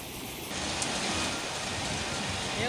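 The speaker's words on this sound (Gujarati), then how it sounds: "શહેર સહિત આસપાસના વિસ્તારોમાં વરસાદ વરસી રહ્યો છે" Steady unseasonal rain pours down in Bhavnagar city in a dense, even hiss that starts abruptly and continues without a break.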